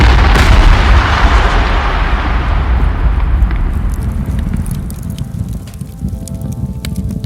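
A Big Bang explosion sound effect hits as a loud, deep, booming blast that rolls and slowly fades over several seconds, with no voices.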